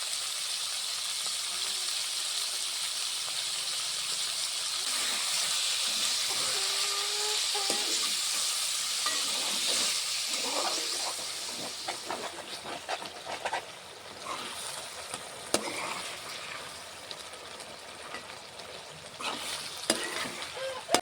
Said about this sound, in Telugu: మధ్య మధ్యలో ఇలా కలుపుకుంటూ ఉంటాను ఎందుకంటే అడుగంటిపోకుండా